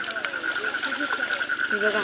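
Frogs croak steadily and close by in a village, a dense chorus of calls with a constant high trill running underneath and occasional voices in the background.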